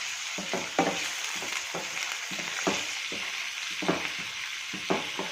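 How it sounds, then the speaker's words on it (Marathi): Bharangi bhaji with moong dal frying in oil until crisp, a steady close sizzle with rhythmic stirring scrapes and soft knocks recurring roughly every half second, no voices. "ही क्रिस्पी होईपर्यंत आपण याला फ्राय करणार आहोत तुला छान ऑइलमध्ये आपण फ्राय करून घेणार आहोत"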